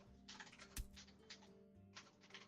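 Rapid computer keyboard typing in bursts of quick, close key clicks, with a brief louder thump partway through and a low hum underneath.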